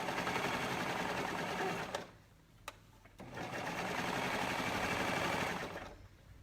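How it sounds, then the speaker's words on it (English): A sewing machine stitches the leg hole of a tankini in two fast runs of rapid mechanical whirring, broken by a short pause with a faint click before the needle runs again and then winds down. "We're gonna sew it in the leg hole."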